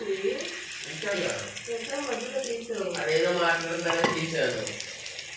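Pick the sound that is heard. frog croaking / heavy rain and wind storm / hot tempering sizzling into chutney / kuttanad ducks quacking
hot tempering sizzling into chutney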